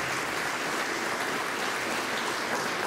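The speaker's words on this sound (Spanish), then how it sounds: "Fuerte aplausos" Sustained applause from a church gathering, a steady broadband wash of many hands clapping continuously at even loudness throughout.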